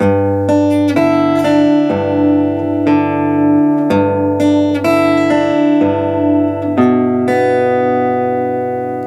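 Acoustic guitar picking two measures of a song, with a steady alternating bass under plucked melody notes, played close and clear with no talking.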